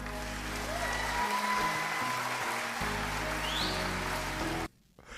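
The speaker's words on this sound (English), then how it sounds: "I enjoy the extra applause this afternoon." Studio audience applause opening a live talk show in El Paso, a dense steady patter of clapping with music underneath that cuts off abruptly near the end.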